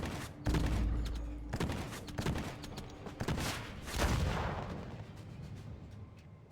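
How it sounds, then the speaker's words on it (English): A run of explosions and booming blasts from combat in the online game ArcheAge Unchained, heavy bursts that repeat at irregular intervals and end in a long fading rumble. "Did that explosion damage you?"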